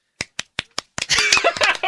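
Four sharp, evenly spaced hand claps ring out alone and close, followed by a burst of louder mixed noise with voices and laughter.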